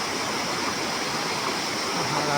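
Jhudi Khola waterfall near a home village in Pyuthan, Nepal, pouring in a steady, full rush of falling water that stays constant and fairly loud throughout, with no other sound rising above it.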